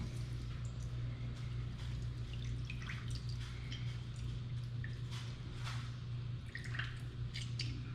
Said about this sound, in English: So this is a pretty juicy lime, so I think we're only going to use 1. Get it all out.